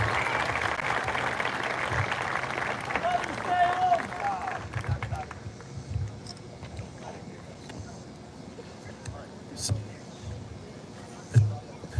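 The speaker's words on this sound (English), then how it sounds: "So give them a round of applause." Outdoor crowd applause for seniors at a football field during an ice cream social, a broad wash of clapping over the first few seconds that fades under wind noise and scattered voices.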